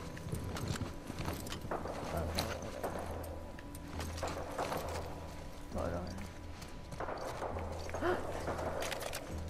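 Horse hooves clip-clop at a walking pace in The Last of Us Part II, a steady clatter running through the clip beneath game ambience and some speech.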